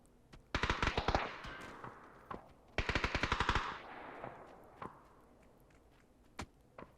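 Two rapid bursts of automatic gunfire crackle at a distance in PlayerUnknown's Battlegrounds, followed by a few scattered single shots and quiet rustling.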